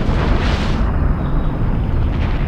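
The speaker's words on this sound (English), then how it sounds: "listen to some explosions and dive in the water." A loud, rumbling explosion in the video game Serious Sam HD roars and then fades into a dense, continuous low rumble, close and overwhelming throughout.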